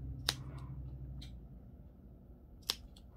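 Two crisp scissor snips cut fabric during sewing, well apart and close, with quiet room hum between them.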